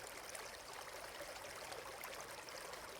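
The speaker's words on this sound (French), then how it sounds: "Je prends la carafe et je décide de commencer à verser de l'eau dans la bouteille." Water pours from a carafe into a bottle in a continuous soft, even trickling stream, faint and alone with no talking.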